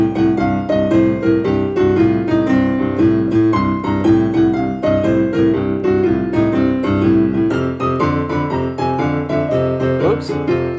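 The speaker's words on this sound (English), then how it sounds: "I'd like you to start by playing that scale from the starting point and down" Blues scale on piano runs downward in the right hand over a steady left-hand blues rhythm, resetting every couple of bars; dense, loud and continuous, with no talking.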